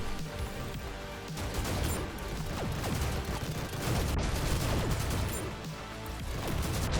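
SMG fire in the fast shooter game GTTOD: dense, continuous rapid gunfire bursts with crashing impacts, loud and sustained across the whole stretch.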